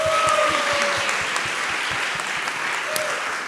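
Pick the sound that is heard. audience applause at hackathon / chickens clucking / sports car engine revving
audience applause at hackathon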